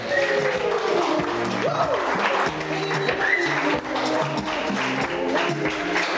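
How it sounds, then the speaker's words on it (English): Wedding guests applaud in a lively hall as the bride's and groom's families dance into the room, steady clapping under loud music and a presenter's voice throughout. "Let's give the round of applause going for them, family of the bride and the family of the groom."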